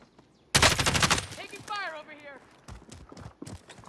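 Gunfire in the video game Warzone: a sudden loud burst of rapid automatic shots, followed by scattered single reports, with a player's voice talking over the later shots.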